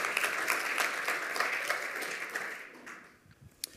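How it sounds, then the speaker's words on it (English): An audience gives a lightning-talk presenter a round of applause at the 27C3 conference, a short burst of crowd clapping that fades after a few seconds into a few last scattered claps. "So give him a round of applause for that"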